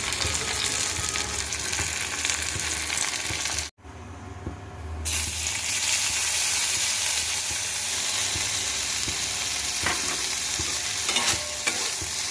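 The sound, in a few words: vegetables frying for fried rice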